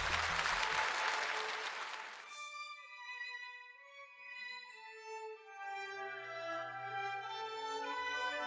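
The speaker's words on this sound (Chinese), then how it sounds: "掌声欢迎" A hall audience applauds a Yue opera huadan performer at a 2019 young actors' competition, a dense burst of clapping for about two seconds before it gives way to sustained instrumental music.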